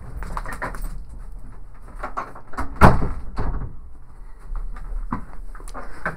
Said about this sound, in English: The cat popped the door open.